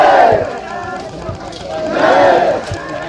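Two swelling waves of crowd chanting rise and fall at a soldier's funeral procession in Jalalpur village, Kasimabad, Ghazipur, loud and close, with scattered voices and movement between the calls.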